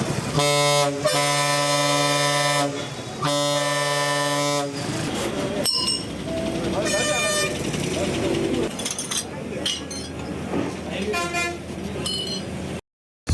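Loud, blaring air horns from private buses sound in repeated long blasts early on, then give way to street noise with more scattered horn toots and a person talking over the traffic.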